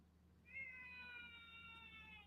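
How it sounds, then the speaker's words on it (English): A cat named Eric, hungry ahead of feeding time, lets out a drawn-out meow that rises and holds for nearly two seconds, quiet and slightly distant over a low steady hum. "is that a cat meowing?"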